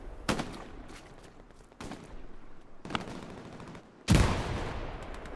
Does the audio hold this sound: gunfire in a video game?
yes